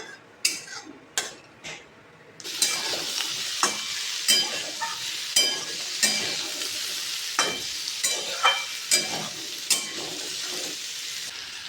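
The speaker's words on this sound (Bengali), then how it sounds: "রসুনটা ভাজা ভাজা হয়ে গেছে।" Garlic fries in a hot pan, a steady close sizzle punctuated by regular sharp clinks and scrapes of a spoon stirring against the metal, about a dozen strokes with no talking.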